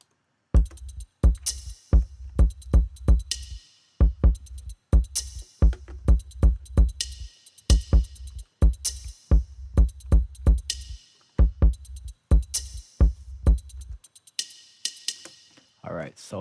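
Drum pattern assembled from sounds recorded with a microphone: punchy kick, snare hits and hi-hat ticks in a steady repeating groove, loud and close, with no voice over it until the pattern stops near the end.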